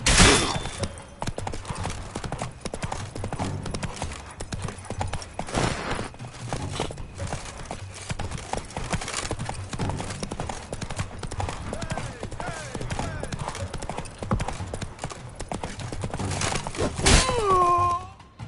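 Roach the horse from The Witcher 3: Blood and Wine galloping, a dense run of clip-clopping hooves in game audio, ending in a loud whinny near the finish.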